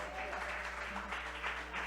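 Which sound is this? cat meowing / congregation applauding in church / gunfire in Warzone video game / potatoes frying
congregation applauding in church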